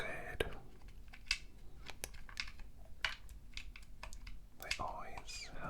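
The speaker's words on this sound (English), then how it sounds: "They always have really clicky buttons and really nice signs, Nintendo." Small plastic buttons on a Nintendo Game Boy are tapped and clicked in an irregular, crisp patter, close and intimate, with soft whispered talk woven underneath.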